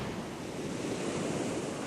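Sea surf crashing heavily on the Romney Marsh coast in rough weather, a continuous loud roar of breaking waves mixed with wind buffeting the microphone.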